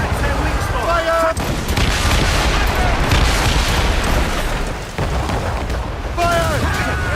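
Ship cannons boom in a naval battle in Assassin's Creed Rogue, a dense, roaring barrage of loud blasts that fills the whole stretch while shouting voices call out over it.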